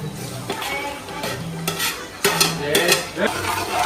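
Korean chicken fries in butter and oil in a pan, giving a busy sizzle broken by stirring, scraping and clinks of utensils against cookware, close and fairly loud.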